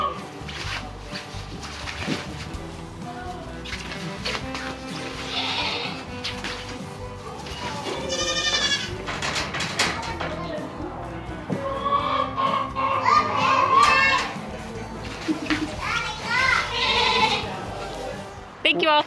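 Goats on a dairy farm bleat repeatedly at close range, mixed with busy background noise and frequent talk from people nearby.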